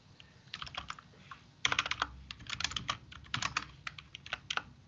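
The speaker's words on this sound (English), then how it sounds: "Oh God, that is such a horrible keyboard." A poor-quality computer keyboard being typed on during a Python coding session, with quick irregular bursts of close, sharp clicking keystrokes and brief pauses between runs.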